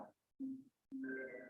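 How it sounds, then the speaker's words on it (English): A mobile phone rings during a mayoral budget workshop meeting, giving three short tonal electronic bursts with brief pauses between them, fairly loud and close, with no talk over it. "I'm sorry, that's my phone."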